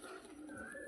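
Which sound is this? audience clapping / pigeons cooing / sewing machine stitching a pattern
pigeons cooing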